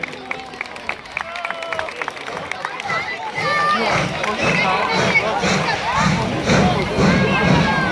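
Outdoor crowd at a steam locomotive event breaking into applause and cheering, a few scattered claps and shouts first, then a swelling burst of clapping and voices, with people talking throughout.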